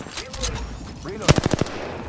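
Automatic weapon fire in the video game Apex Legends, a quick rapid burst of loud shots following game character voice lines, heard up close.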